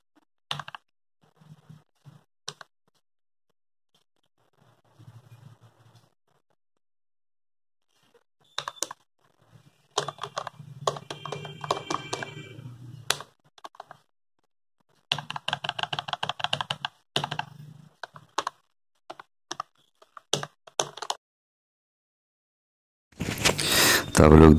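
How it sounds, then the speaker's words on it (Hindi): Typing on a QHMPL QHM7307 mini chocolate-style USB keyboard: close, crisp key clicks in irregular bursts separated by short pauses, growing busier midway, with a loud burst of noise at the very end. "तो आप लोग देख लिए कैसा टाइपिंग एक्सपीरियंस है"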